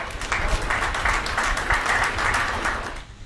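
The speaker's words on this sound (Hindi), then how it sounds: "गलत जगह ताली बजाई है आपने" An audience at a Hindi comedy show applauds, a dense patter of clapping that holds fairly even throughout and then stops abruptly at the end.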